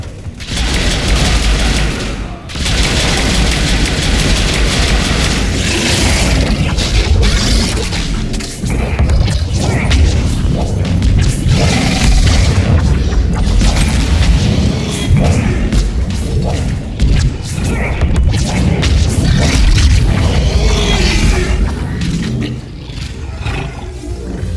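Heavy gunfire and explosions in Mass Effect 3, a dense, continuous wall of loud battle noise with rumbling booms and crashes layered throughout, briefly dipping near the start.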